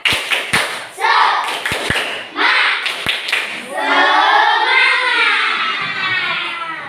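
Fifth-grade pupils in an elementary school classroom clap their hands in a loud burst of applause with scattered shouts, sharp taps standing out at the start, then a steady wash of clapping mixed with children's voices.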